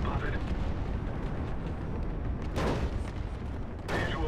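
Gunfire and explosions from the game Planetside 2: a steady rumbling barrage with two sharp bursts near the end, loud and dense, with voices mixed in.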